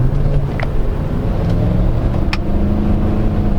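The engine of a 2023 Chevrolet Tahoe Z71 with a 10-speed automatic pulls in third gear as a steady low drone from inside the cabin, with a few faint clicks over it.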